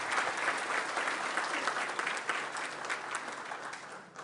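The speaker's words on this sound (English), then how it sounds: "Let's give them a round of applause." An audience at a business appreciation luncheon gives a dense, sustained round of applause. It stays fairly even throughout and tapers slightly at the end, with no talking over it.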